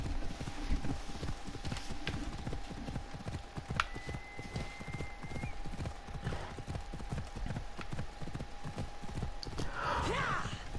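Rhythmic hoofbeats of a horse in Assassin's Creed Odyssey gallop steadily throughout, a continuous clip-clop with a steady electronic tone behind it, ending in a brief burst of noise.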